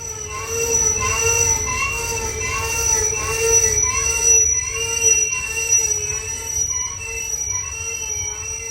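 A heavy coal train rolls down a mountain grade, its wheels squealing continuously in sustained high-pitched tones over a steady low rumble of locomotives and cars, loud and close throughout.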